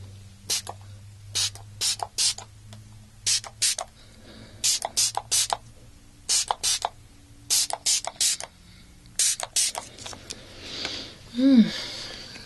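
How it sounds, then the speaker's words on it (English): Several short bursts of makeup setting and finishing spray misted close up, quick pumps in uneven clusters with quiet gaps between, ending in a soft breathy sound. "We're going to set your makeup with this refresher / finishing spray."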